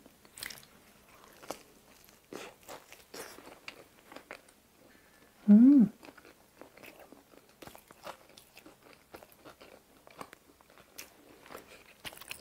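Pizza Hut double fondue beef pizza topped with cube cheese, meat, paprika, broccoli and potato is chewed close up, with soft sporadic bites and crunches amid quiet pauses, plus one short voiced sound midway.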